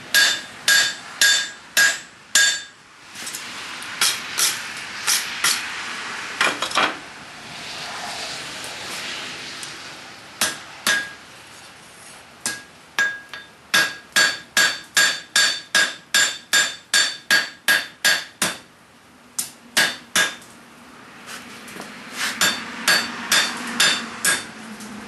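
A blacksmith forges a leaf shape with an angle peen hammer, sharp ringing metal strikes in fast bursts and steady runs, separated by short pauses, loud and close with no talking.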